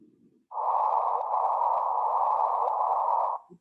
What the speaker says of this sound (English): This is the gravitational wave signal translated into a sound wave.